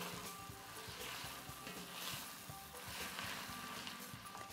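Sliced onions frying and caramelizing in a pan for French onion soup, a quiet, steady sizzle with soft crackles and occasional stirring scrapes.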